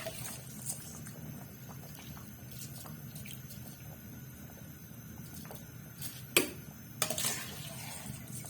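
Rice pours into a cooking pot of water for chana pulao, heard as soft watery trickling and clinks, ending in a couple of louder splashing rushes near the end.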